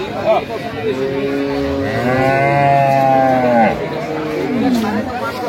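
Dairy cows and calves at a village cattle market moo loudly and nearby, one long drawn-out low call followed by a shorter one, set against background crowd murmur.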